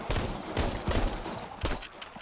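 Gunfire in the VR zombie shooter Arizona Sunshine comes as a rapid string of loud, close shots, several cracks in quick succession with short gaps between them.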